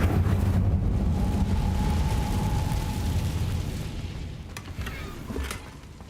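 An Incendio fire spell in a wizarding game erupts in a loud, rumbling roar that slowly fades over several seconds, followed by a few faint crackles, with no voices.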